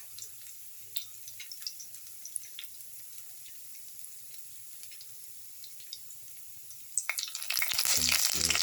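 Shallots, garlic and ginger frying in a pan, a soft low sizzle with faint stirring ticks, then a louder surge of hissing near the end as more goes into the hot oil.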